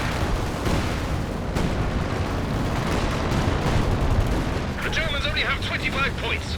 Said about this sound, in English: Some artillery coming in though by the Allies.